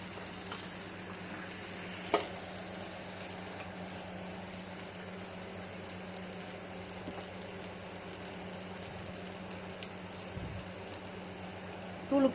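Potato and tomato sautéing with salt in a pan for a restaurant-style chutney, a steady low sizzle running throughout, with a couple of brief utensil knocks and no talking.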